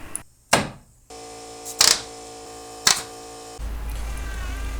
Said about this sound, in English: the small panels on the dash are being stapled down around the perimeter